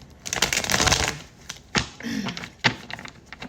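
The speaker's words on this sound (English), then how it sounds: "I'm just looking at these cards that just fell out when I started shuffling" Tarot cards are shuffled by hand in a quick flurry of riffling clicks, followed by several separate taps and slaps of cards, close and fairly quiet.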